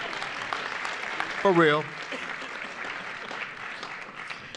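Audience clapping at a winter commencement ceremony, a faint, even patter of applause from a distant crowd that continues under a brief spoken remark.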